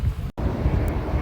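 Wind at the Furnace Creek Visitor Center in Death Valley National Park, a loud, low rumbling buffet against the microphone that cuts out for an instant and then resumes just as strong.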